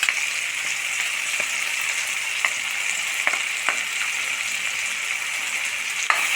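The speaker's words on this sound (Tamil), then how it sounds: "மசாலா சேர்த்து நல்லா வதக்கி கொடுத்துடலாம்." Ground masala with poppy seeds and cashews frying for Mughal kurma, a steady close sizzle with occasional faint stirring clicks.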